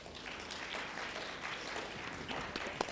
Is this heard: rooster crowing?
no